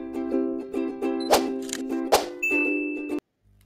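A notification bell sound effect: bright, ringing dings and clangs, several struck in quick succession with sharp attacks and sustained tones, loud and close, then cutting off abruptly into near silence.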